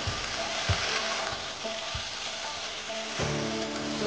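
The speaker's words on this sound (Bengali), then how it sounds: "তো কড়াতে আমাদের সবজিগুলো সব তুলে দিলুম তেলে দিয়ে।" Eggplant, potato, ridge gourd and yardlong beans fry in oil in a kadai, a dense close sizzle with a few soft knocks from stirring, with no voices.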